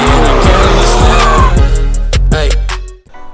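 Tires on a Dodge Hellcat squeal loudly and steadily as the car lays down smoke, the engine roaring underneath; the screech fades out near the end.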